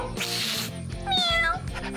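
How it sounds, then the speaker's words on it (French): A cartoon cat in a children's French craft story lets out two clear, close meows, the second rising and falling, over steady background music. "Un chat est grimpé dans l'arbre."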